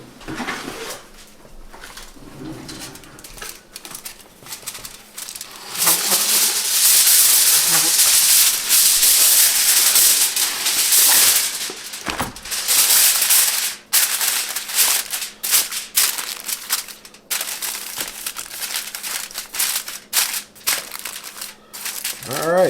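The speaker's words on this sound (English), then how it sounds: "I'm actually going to take a piece of foil and cover it with foil" Aluminum foil torn off a roll and crinkled down over a lasagna dish, loud close rustling and crumpling that swells midway and continues in bursts, with a brief tearing rip.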